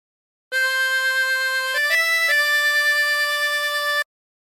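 A short wavering reed melody from a song on a 16-hole tremolo harmonica, a few sustained notes with a shimmering tremolo, played alone and clearly.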